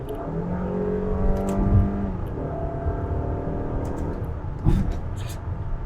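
A Mazda CX-5 petrol engine in manual mode: close, steady engine drone heard from inside the cabin, with the pitch of the revs holding and shifting as it slows under engine braking. Brief clicks and thumps sound near the end.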